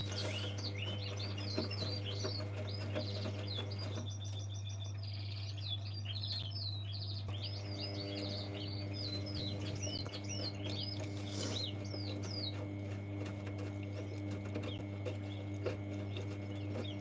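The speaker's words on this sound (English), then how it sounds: "Got that noise of the blooming birds outside the garage chirping." Birds chirp outside a garage, repeated bright tweets and short calls scattered throughout at moderate distance over a steady low mechanical hum from a running Zanussi IZ161W washing machine.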